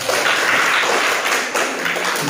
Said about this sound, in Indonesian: Dan tepuk tangan untuk kelompok 2.